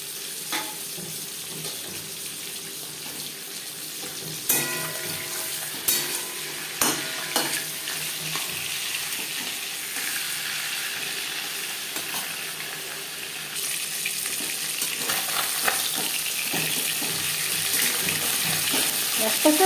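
A fish head fries in hot mustard oil with garlic and onion for a Bengali fish curry, giving a steady close sizzle that builds slightly over time, with a few sharp utensil clicks and stirring sounds.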